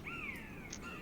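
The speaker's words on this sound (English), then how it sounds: "realize this soundscape had bird noises" Bird calls in an ambient game soundscape during a tabletop session, where a parrot appears on an indoor wall: a couple of rising and falling whistled calls, moderately clear over a low steady background hum.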